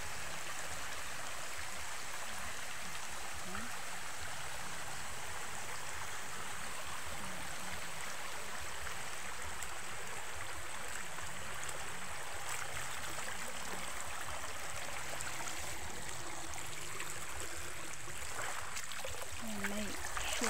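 Constant roar of a waterfall and a flowing stream at a river spot, an unbroken hiss of moving water that stays even throughout, with faint voices murmuring low in the background.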